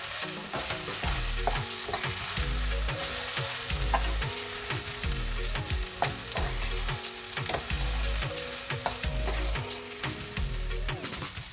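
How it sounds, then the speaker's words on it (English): Rice frying in curry masala in a one-pot dish, a continuous loud sizzle with repeated rhythmic scraping and stirring strokes of a spoon against the pot, no voices. "We're going to fry the rice until the rice starts to get a sweet scent"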